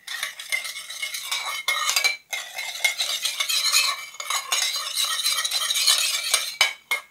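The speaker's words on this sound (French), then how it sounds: "Et on mélange bien le tout" Continuous stirring and tossing of a summer mixed salad in a bowl, utensils scraping and clinking against the sides in quick bursts, close up with short pauses.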